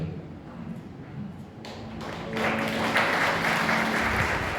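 Wedding guests clapping as the parents enter the hall, the applause rising from a low murmur to a fuller, louder patter partway through and holding steady.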